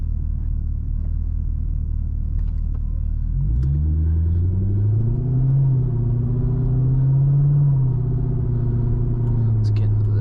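A 2008 Chevrolet Corvette's engine drones steadily on the road, its note rising and settling as it gathers speed after about four seconds, with a low rumble throughout and occasional faint talk over it.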